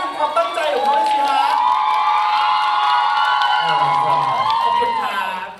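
Audience at a press conference in Bangkok for a music world tour, cheering and shrieking loudly in a sustained burst with scattered applause, voices rising and falling together.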